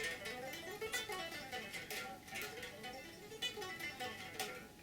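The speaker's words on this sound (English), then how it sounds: "I'm playing this all legato, so picking the first note and hammering the other 2" Electric guitar playing a rock legato run, each group starting on a picked note followed by smooth pull-offs and hammer-ons, a quick, fluid cascade of notes at moderate volume with no talking.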